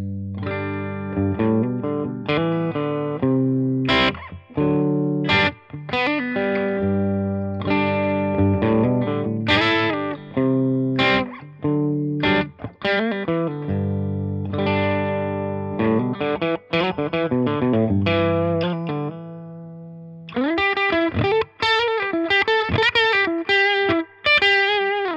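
Blackstar Carry On travel guitar with a mini humbucker played on a clean tone, with a long passage of chords and single-note lines, bright and sustained, ending with a higher strummed section.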